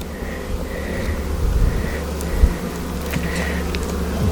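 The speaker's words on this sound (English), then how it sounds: "This is a box of bees by Cracky." A full hive box of honeybees, crowded with drones, buzzes in a thick, constant drone close by, with a few brief higher tones passing over it.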